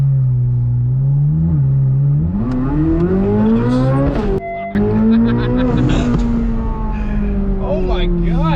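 A 2025 Chevrolet Corvette Z06 accelerates hard on a full pull, its loud engine note climbing steadily through the revs, dropping briefly on a quick shift, then rising again as the car keeps pulling from inside the cabin.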